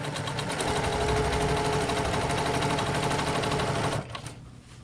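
Sewing machine back stitching on a fabric tote bag, a steady loud mechanical whir of rapid needle strokes running continuously for about four seconds before stopping abruptly, leaving faint clicks.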